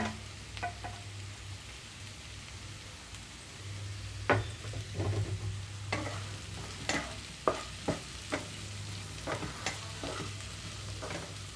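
Pre-cooked mixed vegetable pieces are stirred and fried in a pan, giving a soft continuous sizzle with repeated scraping and clacking strokes from a spatula, close and moderately quiet, with no speech.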